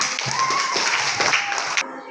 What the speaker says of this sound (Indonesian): sekarang kita berikan dulu tepuk tangan untuk kelompok mangga